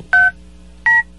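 Keypad tones from a red public payphone being dialed: three short, loud, close beeps, evenly spaced, the last one cut off.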